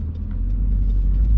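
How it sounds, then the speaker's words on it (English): A large tractor reversing on the road close to a small stopped car, a steady deep engine rumble that stays loud and even throughout. "I'm stopped for a tractor who is reversing."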